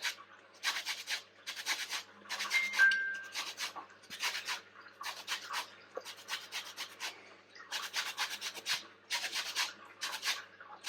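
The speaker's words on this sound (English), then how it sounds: "So don't go in too far, because if you zest past the white pit, it will make it very bitter." Orange being zested for a plum and yoghurt cake, short scratchy rasping bursts repeated in a steady rhythm, close and fairly quiet against a silent background.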